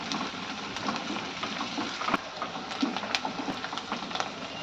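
Okra and mint frying in a pan for prawn curry, a steady close sizzle and crackle with occasional stirring clicks, continuous and moderately quiet.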